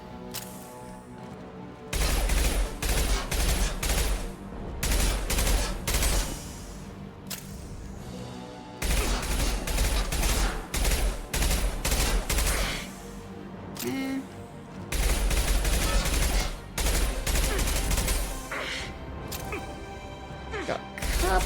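Gunfire in the video game Mass Effect 2, with loud bursts of shots and impacts coming in several long volleys separated by brief lulls over a dense game soundtrack.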